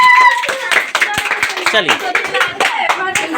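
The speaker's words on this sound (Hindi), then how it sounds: "जज साहब के लिए ताली बजा दीजिए" Audience clapping for a judge on a show, a burst of quick overlapping claps under a voice speaking over them.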